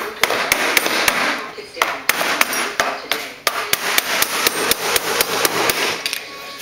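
A blunt screwdriver is hammered against aluminum to flatten it, giving a close, loud series of sharp metallic strikes at an uneven, rapid rhythm with brief pauses between bursts.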